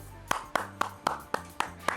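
Seven even, crisp claps in a steady rhythm on a golf course, sharp and close, with a faint voice murmuring in the background.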